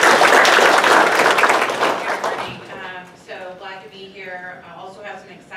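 Audience applause at a community meeting, loud dense clapping for about two and a half seconds that fades out as a voice begins talking.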